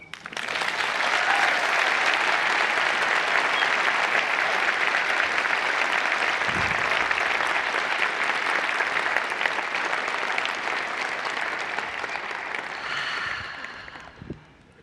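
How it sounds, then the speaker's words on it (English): Sustained applause from a congregation at a Sunday interfaith service, loud and steady for about thirteen seconds before tapering off abruptly near the end. "Now we may applaud."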